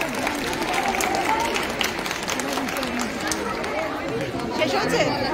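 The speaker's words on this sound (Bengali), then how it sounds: "জোরে করতালি হয়ে যা।" An audience at a workplace farewell gathering claps loudly and continuously, a dense patter of hands mixed with lively chatter and voices throughout.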